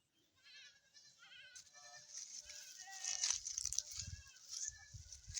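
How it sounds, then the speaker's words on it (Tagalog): A small herd of goats, including babies, bleats several times, the calls rising and overlapping in the middle, while people talk quietly and low rustling thumps sit underneath. "Yung mga kambing naririnig nyo."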